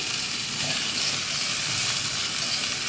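Frozen carrots, corn and green peas sizzling steadily in a hot pan, a constant close, loud frying hiss with no pauses or voices.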